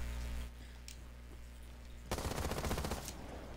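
A PDW fires a rapid burst of shots in Rainbow Six Siege, lasting about a second, after a quiet stretch of low game hum.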